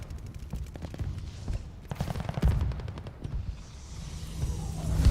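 Artillery shells crash down amid heavy gunfire and machine-gun bursts in a Battlefield match, sharp blasts and booms layered over a dense, continuous rumble of combat.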